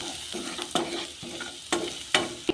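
Gram flour mixture frying in a pan, a soft steady sizzle broken by several distinct spoon scrapes and clinks as it is stirred, close and quiet with no voices.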